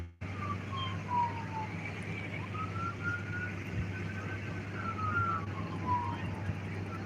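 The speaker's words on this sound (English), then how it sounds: "it was an ambulance going" An ambulance siren wails, sweeping up and down at a distance over a steady low engine hum, with no voices.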